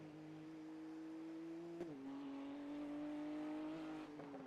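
A race car engine drones in the iRacing sim during a Nürburgring 24-hour endurance race, holding a steady pitch, dipping once as the car shifts or lifts, then climbing again.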